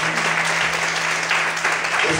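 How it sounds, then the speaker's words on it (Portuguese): A church congregation applauds steadily throughout, a dense wash of clapping filling the room with a low steady hum beneath it. "Você pode aplaudir o Senhor por isso?"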